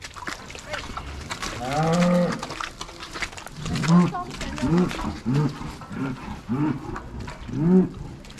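Dairy cows lowing repeatedly as they are herded through a gate into another area on a livestock farm, several drawn-out moos close by, with people talking over them.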